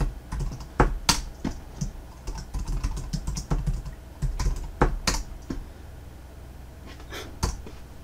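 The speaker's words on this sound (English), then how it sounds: "I'll give it my name, and I will plug in a password." Rapid keystrokes on a computer keyboard as a username and password are entered during single-board computer setup, close and clear, in uneven bursts with short pauses and no talk.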